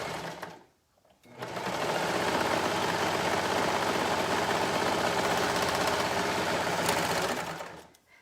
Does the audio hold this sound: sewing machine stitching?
yes